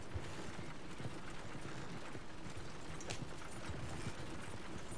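Horse hooves clip-clop at a steady riding pace in Red Dead Redemption 2, a continuous rhythmic patter of many hoofbeats with faint tack and creaking sounds beneath, close and even, with no talk.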